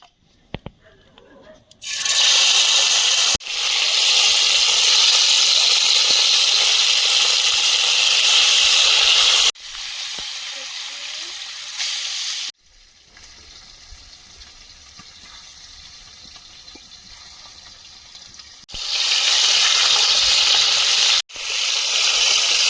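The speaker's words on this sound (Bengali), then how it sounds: "কড়াইতে তেল দিয়ে মাছগুলো ভেজে নেবো" Katla fish frying in oil in a kadai gives a loud, steady hiss and sizzle in long bursts, broken by short quieter gaps where the crackle drops to a softer bubbling.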